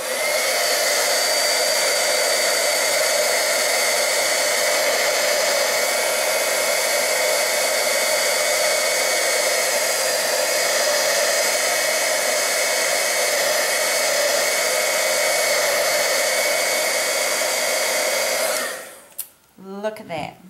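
A hair dryer blows steadily and loudly for about nineteen seconds to dry Distress Oxide ink on a craft mat, then cuts off abruptly with a brief rustle as it stops.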